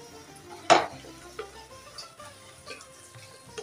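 A spoon stirs tomato paste and salt in a cooking pan, with one sharp scrape or clink near the start, then soft intermittent scraping and faint sizzling, close and quiet.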